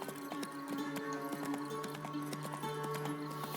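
Horse hooves clip-clop in a steady trotting rhythm in The Witcher 3, crisp repeated hoof strikes over a faint musical background, with no talk.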